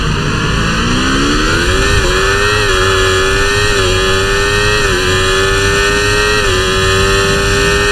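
A Formula 1 car engine from the F1 24 racing game screams at high revs near Monza, one continuous loud whine that climbs and shifts pitch slightly through gear changes, with no talk.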